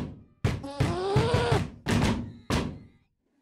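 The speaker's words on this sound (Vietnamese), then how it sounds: "tức đến dậm chân âm ầm" A person stamping their feet angrily: four heavy thuds in quick succession, loud and close, with a whining, wailing voice between them.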